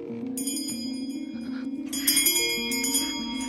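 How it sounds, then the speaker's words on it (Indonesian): A call bell rings repeatedly in a house in an Annabelle horror film scene. Bright, sustained metallic tones overlap and grow louder partway through, with no talk. "Saat bel Esther terus berbunyi"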